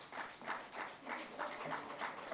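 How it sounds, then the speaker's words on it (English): Audience at an awards ceremony clapping in a room, a modest, uneven burst of applause that pulses in rough waves for a couple of seconds, fairly faint. "A round of applause for him"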